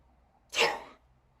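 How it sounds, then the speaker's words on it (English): A single sharp sneeze from a person close to the microphone, a sudden burst of about half a second amid otherwise quiet surroundings. "sorry about that sneezing in your ear"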